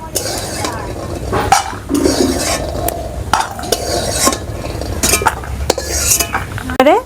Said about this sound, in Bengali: বাদামগুলো ভেজে নিয়েছি, নামিয়ে নিচ্ছি।